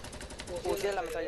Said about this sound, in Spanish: Tiene la ametralladora ligera